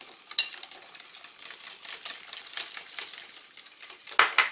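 Melted butter being stirred into apple and lemon clafoutis batter in a bowl, a steady close wet swishing and scraping that runs throughout, ending in a couple of sharper clinks of the utensil against the bowl.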